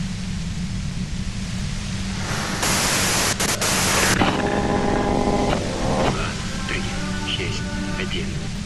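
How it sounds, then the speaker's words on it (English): In the Disco Elysium video game, a harsh burst of white-noise static hisses for about two seconds over a low hum, followed by garbled, voice-like tonal warbling. "you can do it through the white noise"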